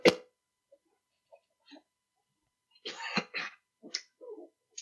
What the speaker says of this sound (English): Excuse me, I got a cough.